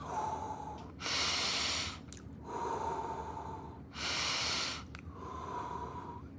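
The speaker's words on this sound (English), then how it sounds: "breathing through your nose, deep breath, and exhaling through your mouth" Deep, slow breaths drawn in through the nose and pushed out through the mouth, three long audible cycles with clear pauses between them, close and quiet.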